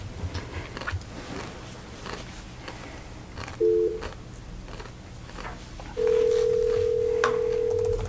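Telephone tones on a speakerphone line during direct dialing into a county board meeting: a short double-pitched beep, then a long steady tone lasting about two seconds, over faint room noise.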